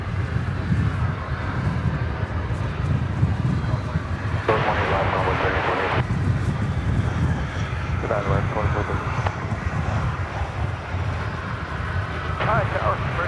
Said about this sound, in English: Arriving now from Destin, Fort Walton Beach is American Airlines Flight 2562 and Airbus A319